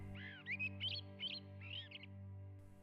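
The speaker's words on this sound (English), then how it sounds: "The tawny owl is a flawless hunter, and it scans the forest with its perfect sight" A tawny owl in a Portuguese forest gives several short, quavering calls in quick succession, close and clear above a steady low hum.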